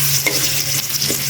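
Onion and garlic fry in hot oil with a steady, close sizzle and a few stirring scrapes, no voices.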